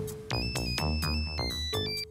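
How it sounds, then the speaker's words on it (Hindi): A mobile phone ringtone playing a bright electronic melody of repeated tonal notes, loud and close, with no talking. "That's my phone."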